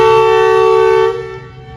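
The Awam Express train at Taxila station sounds one loud, steady whistle blast close by, held for about a second before dropping and trailing off.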